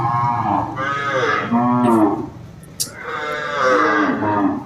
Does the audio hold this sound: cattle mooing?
yes